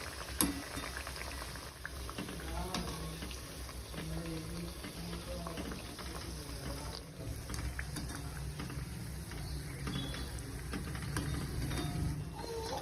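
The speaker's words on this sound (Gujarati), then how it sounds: "આને મેં 3 થી 4 મિનિટ માટે આવી રીતના તેલમાં જ તળવા મૂકેલી છે." Maida farsi puris deep-fry in oil over a medium flame, giving a continuous bubbling hiss with faint mechanical clicks and quiet clatter throughout, no voice over it.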